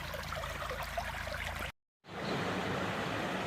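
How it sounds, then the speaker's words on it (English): A river flows steadily at a trap site, a continuous broadband rush of running water that stops abruptly for a moment and then resumes just as loudly, with no voices. "Lovely river this."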